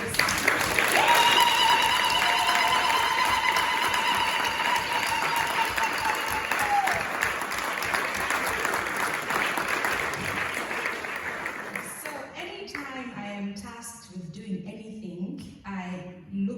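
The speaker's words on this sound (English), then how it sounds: "Please give them a round of applause." Audience at a Princeton Class Day ceremony applauds the graduating class of 2022, dense sustained clapping from a large crowd with some tonal sounds over it, fading into talk near the end.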